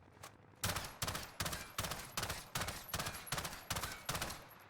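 Hipfire from the Modern Warfare AUG in Warzone: a short single shot, then a rapid, evenly spaced string of about a dozen loud, close gunshots.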